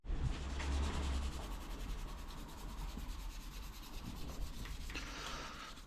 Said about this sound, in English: I've been attacking this with a it's not like wire wool, but it's a scouring pad